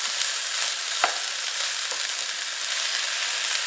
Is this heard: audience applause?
no